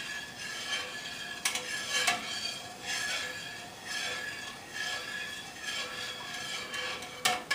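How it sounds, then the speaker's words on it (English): A spoon stirs milk in a pot as it is heated for homemade mozzarella, making a steady scraping and swishing with sharp clinks against the pot every few seconds. The sound is close and continuous, with no one talking. "So we're just going to stir, stir, stir until we get this up to 90."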